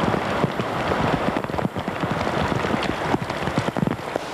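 Heavy rain falls near Piraeus in autumn 1996, a constant close patter on a hard surface with scattered louder drips and splashes throughout.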